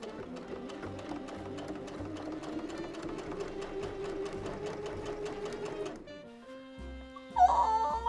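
Sewing machine stitching a dress from thrifted fabric, a steady rapid hum of needle strokes running for about six seconds, then stopping, followed by a few quieter clicks and handling sounds.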